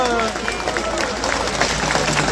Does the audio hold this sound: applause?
yes